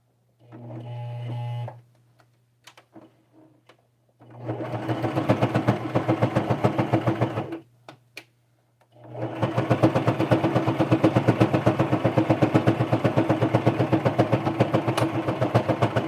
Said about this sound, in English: we did it. We got one leg sewn on.